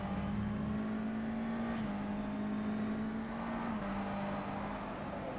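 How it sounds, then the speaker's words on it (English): A race car engine held at full throttle in rFactor 2 at the Montreal circuit, a loud, steady high drone with two quick upshifts, heard onboard and alone. "Oh, that's full throttle now."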